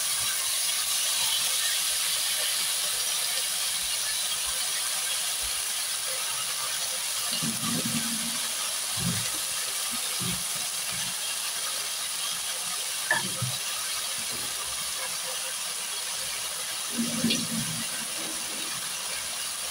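Mashed red lentils going into a hot pan and being stirred, a steady frying hiss with a few soft thumps and scrapes of stirring throughout.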